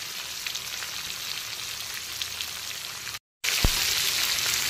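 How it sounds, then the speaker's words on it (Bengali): Prawns frying in hot oil for a chapra chingri recipe, a steady dense sizzle and crackle that runs on evenly, breaks off for a moment, then resumes just as strongly. "2 থেকে 3 মিনিট সময় নিয়ে চিংড়িগুলোকে ভেজে নেব।"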